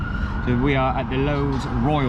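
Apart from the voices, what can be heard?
emergency vehicle sirens in the background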